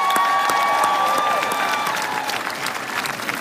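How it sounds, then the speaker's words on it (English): A rally crowd at a Washington, DC tax march claps and cheers in a steady roar. A faint whistle-like tone rises over it early on, then the applause thins slightly as it continues. "Please give them a big round of applause, folks."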